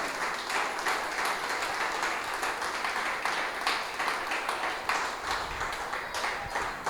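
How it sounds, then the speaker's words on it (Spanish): A church congregation claps steadily and warmly for several seconds, a dense continuous patter of many hands filling the room with no talk over it. "aplauda al Señor"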